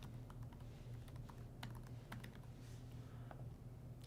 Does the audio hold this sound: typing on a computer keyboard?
yes